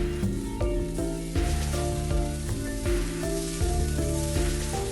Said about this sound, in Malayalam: ഇനി ഇതിലേക്ക് വേവിച്ചെടുത്ത വൻപയർ ഇട്ട് കൊടുക്കാം ഇളക്കി കൊടുക്കണം